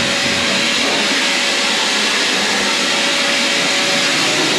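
A vacuum cleaner hoovers the aft deck of a boat, giving a loud, steady, continuous whooshing roar with a faint constant whine and no pauses.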